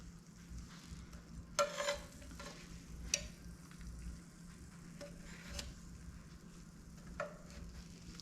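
Small apple fried pies bubble steadily in hot oil, a soft continuous sizzle punctuated by a few sharp ticks and clinks from the pan.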